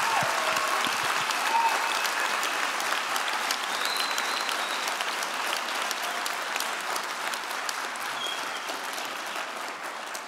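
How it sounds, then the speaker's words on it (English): Sustained audience applause at a university achievement celebration in Minnesota, a thick, even roar of clapping from a large crowd that holds steady and fades slightly toward the end. "deserving of another round of applause"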